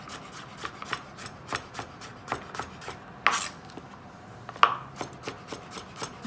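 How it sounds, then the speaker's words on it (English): A knife chops squash into chunks on a cutting board, a steady series of crisp close knocks with a couple of sharper, louder strikes partway through. "Chunking it up."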